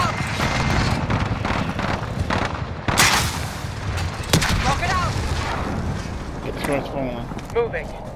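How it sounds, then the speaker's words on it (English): Airstrike explosions in Call of Duty: Warzone Plunder mode, heavy booms and sharp blasts breaking out over a rumbling battlefield, with a player talking over the action. "Be advised, friendly position airstrike inbound."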